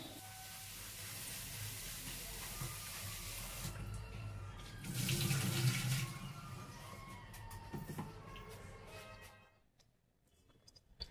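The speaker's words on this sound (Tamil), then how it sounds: "அதுக்கு தேவையான அவலை வந்து கொஞ்சம் அலசிட்டு ஒரு 5 நிமிஷம் அப்படி ஊற வைக்கணும்" Tap water runs steadily in a kitchen sink as flattened rice (aval/poha) is rinsed, swelling louder midway with splashing before cutting off near the end.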